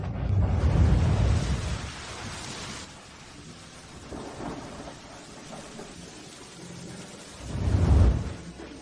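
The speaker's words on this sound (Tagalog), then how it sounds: "Takot ka pa rin sa kulog?" Heavy thunder during a storm: a loud, deep rumbling roll opens, fades into a softer low grumble with steady rain, then a second close, powerful thunderclap booms near the end. No one speaks.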